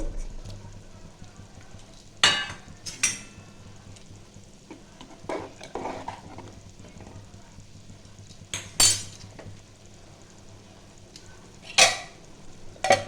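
Spiced khichuri masala with fried potatoes and half-cooked rice and lentils frying over a medium-low flame, with a soft steady sizzle broken by several sharp spoon scrapes and clinks against the pot.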